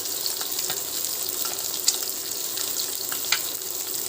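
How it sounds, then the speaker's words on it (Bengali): Rohu fish frying in hot oil in a wok, a steady close sizzle with crackling pops and a couple of sharper spatters, no voices present. "আমি সবসময় এই ট্রিক্সগুলো ফলো করে এসব কড়াইয়ে এভাবে মাছগুলো ভেজে নিই"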